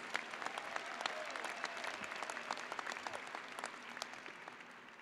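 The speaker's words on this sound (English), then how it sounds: "Let's give these graduates a round of applause for their perseverance." A large audience at a university undergraduate commencement ceremony applauds the graduates, a dense and steady wash of clapping heard from a distance that carries on without a break.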